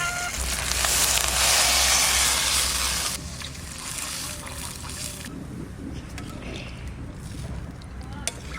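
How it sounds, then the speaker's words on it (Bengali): Water is poured into a pot of browned mutton, goat meat cooked in Bengali style, making a loud rushing gush for about three seconds that gives way to a softer steady bubbling and hiss. "মাংস কষানো হয়ে গেছে, এবার আমি জল দিয়ে দেবো।"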